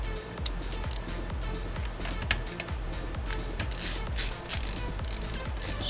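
Screws being driven back into an expensive high-end gaming PC build, heard as quick ratcheting clicks from a hand screwdriver, a steady run of close, small mechanical ticks with brief pauses.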